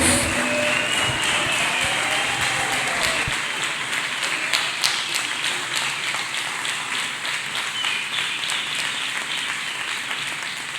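A church congregation claps steadily and loudly for Jesus Christ, a dense continuous applause that carries through the whole stretch, with voices mixed in beneath it.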